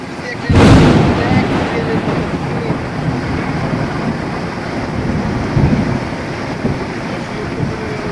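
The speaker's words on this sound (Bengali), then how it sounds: "কার্তিক মাসে বৃষ্টি, প্রচণ্ড বৃষ্টি, প্রচণ্ড বজ্রপাত হচ্ছে।" A loud thunderclap cracks early, then heavy rain roars steadily, with wind buffeting the microphone and a softer rumble later.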